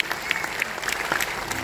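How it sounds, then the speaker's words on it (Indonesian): Brief burst of congregation applause during a church sermon, a dense patter of clapping from a crowd that fills the short moment at moderate loudness with no clear speech over it. "Setuju berikan tepuk tangan buat Tuhan kita"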